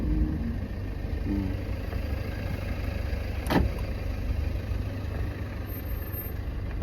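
A car engine hums at low revs during a driving lesson as the car creeps forward on light braking. The drone is steady, low and muffled inside the cabin, with one brief faint click partway through, and no one speaks.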